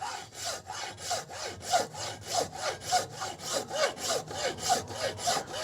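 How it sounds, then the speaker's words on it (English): A hand saw cuts apart an old Fiat Ducato fuel filter in steady back-and-forth strokes, about two per second, close and moderately loud, with no talking. "I'm going to split the old fuel filter just to see A, how it's constructed"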